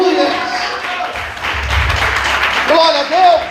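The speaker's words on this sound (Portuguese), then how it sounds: "Nesta manhã você pode aplaudir ao Senhor por isso" Church congregation at a Sunday morning service clapping in praise to the Lord, a thick wash of hands beneath a preacher's amplified voice, with a low rumble in the hall.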